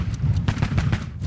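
Six rapid gunshots from the 1981 assassination attempt on President Reagan, fired in under two seconds: sharp, closely spaced cracks in a dense burst, somewhat muffled amid background noise.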